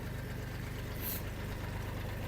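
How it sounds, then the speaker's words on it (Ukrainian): A tractor engine idles with a steady low rumble while preparing to pull a tree root out of the ground in a yard, with a constant drone and no talk. "У мене коханий хоче трактором витягнути цей корінець."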